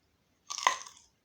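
A crunchy chocolate-coated jujube bitten and chewed up close, a single crisp crunch burst lasting about half a second in otherwise quiet surroundings.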